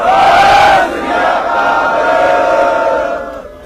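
A large crowd at a rally against land pooling policy roars the Sikh jaikara response in unison, a loud sustained collective shout that swells, dips and carries on.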